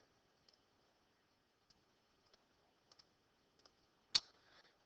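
An equation being keyed into a calculator gives a handful of faint, sparse button taps spread out over a few seconds, then one sharper, louder click near the end, in a quiet room.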